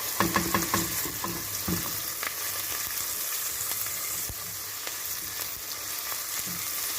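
Garlic frying and being stirred in a pan for an Egyptian-style Saudi kabsa, a steady broadband sizzle with spoon scrapes and clatter near the start, close and continuous throughout.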